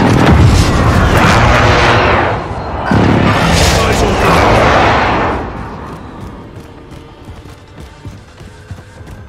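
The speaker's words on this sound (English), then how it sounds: "Enemy precision airstrike." In a Call of Duty: Warzone match, a precision airstrike lands as a run of heavy, loud blasts and rumbling booms for several seconds, then fades into quieter gunfire and movement.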